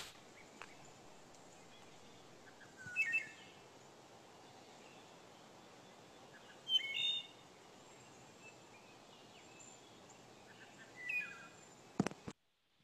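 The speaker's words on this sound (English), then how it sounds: "we probably should be hearing our first wood thrushes here in Pennsylvania" Wood thrush song in a Pennsylvania forest: three short, faint, fluting phrases spaced a few seconds apart over quiet woodland ambience, ending with a sharp click.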